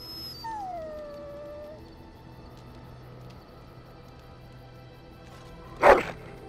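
A dog in the video game Dragon Age: Origins howls with a long falling whine, then after a quiet stretch of ambient hum lets out a single loud, sharp bark near the end.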